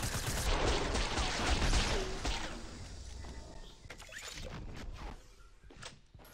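Gunfire in the video game Fortnite: a dense burst of shots fills the first couple of seconds, then sharper single reports follow more sparsely, with no talking over them.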